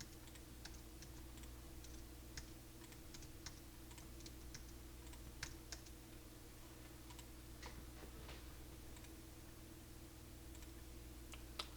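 Soft computer keyboard typing, faint and steady, a scatter of light irregular key clicks over a constant low electrical hum while someone enters tag values in structured text software.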